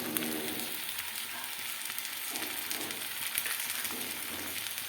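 Potatoes and kohlrabi frying lightly in a pan give a steady, close hiss of sizzling oil with faint stirring scrapes throughout, no voices.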